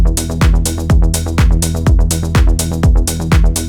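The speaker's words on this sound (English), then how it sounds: "So with our basic 16th note rolling bass line, it's going to sound like this." Synthesized saw-wave bass rolls in steady sixteenth notes, with a loud, punchy low pulse repeating evenly about twice a second and a bright buzzy top, playing alone in mono.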